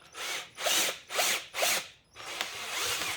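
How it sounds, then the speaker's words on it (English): A power drill dragged sideways to hollow out an oak bonsai trunk, cutting into the wood in three loud whining bursts with short pauses between them, then a longer grinding pass. "You can drag the drill sideways a bit, and the side of the drill bit will actually cut out the hollow."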